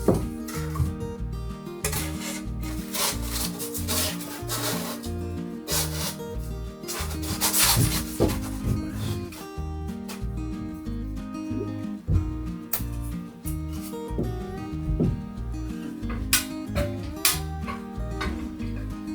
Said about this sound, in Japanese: これ断熱材、ここを切ってきたやつ、早速入れていきたいと思います